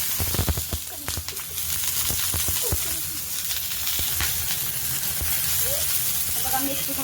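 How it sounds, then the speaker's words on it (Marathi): Green chillies with the stems removed roast and sizzle in a hot pan for a masala paste, giving a continuous crackling hiss broken by sharp pops and spits, with a few faint voice fragments. "बघा मिरची भाजून घेते, हिरवी मिरची मस्त तिथे देठ काढले"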